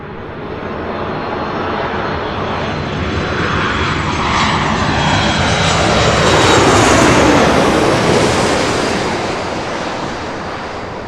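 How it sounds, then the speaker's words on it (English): Air Canada Boeing 737 MAX 8 jet passing at LAX, a loud broadband roar that swells steadily, peaks near the middle, then fades over about eleven seconds, with no voices. "Right up next, the Air Canada 737 MAX 8."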